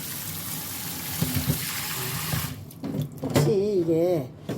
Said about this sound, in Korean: 이 콩을 이제 냄비에 넣고 물을 붓고 이제 다시 삶아줄 것입니다.